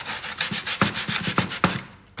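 Sandpaper rubs the inside of a wooden lattice in quick, loud back-and-forth strokes, about eight rhythmic scrapes close up, with no voices.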